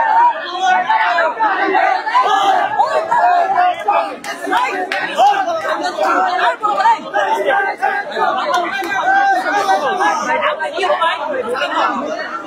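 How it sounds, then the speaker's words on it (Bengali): Students protesting outside the Secretariat in Dhaka, a dense, loud crowd of many voices shouting and chanting slogans continuously, close and overlapping throughout. "দেখছেন বিভিন্ন স্লোগান দিচ্ছেন শিক্ষার্থীরা"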